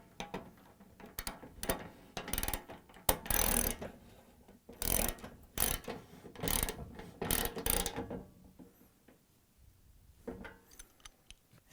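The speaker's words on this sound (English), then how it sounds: "And now we're going to tighten them with a 13/16 socket wrench" Ratchet socket wrench, 13/16 size, tightening a Venturi nut on a gas stove burner assembly: bursts of close ratcheting clicks in uneven strokes, then a pause and a final short burst, with no talking.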